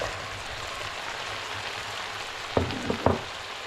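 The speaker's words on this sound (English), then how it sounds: "And now we're going to add the sliced mushrooms." One cup of fresh sliced mushrooms hits a hot skillet and sizzles in a steady hiss, with a few close clattering knocks of stirring near the end.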